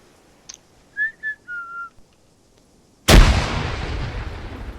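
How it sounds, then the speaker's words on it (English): An Arma 3 frag grenade detonates with a single loud, close broadband boom and a long rumbling decay, preceded by a few short whistled tones. "Private Grote, go ahead and press your N key and throw the grenade once you've done that"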